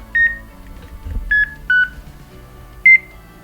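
Electronic beeps from an avalanche transceiver disturbed by a nearby mobile phone: four short, sharp tones at uneven intervals, each with a brief trailing chirp, over a low background murmur.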